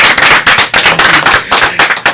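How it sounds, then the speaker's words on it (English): An audience gives a guest a round of applause at a talk show taping: dense, sharp, close clapping that continues unbroken for about two seconds. "a round of applause for him"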